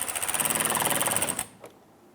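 A power tool gently snugs down a new bolt and washer on a Jeep Grand Cherokee liner, giving a rapid, pulsing whir for just over a second before it cuts off, close and clear.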